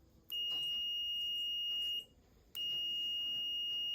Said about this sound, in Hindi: ये देख सकते हैं बजर का साउंड आ रहा है आपके पास।